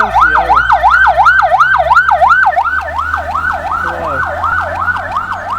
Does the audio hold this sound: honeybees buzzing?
no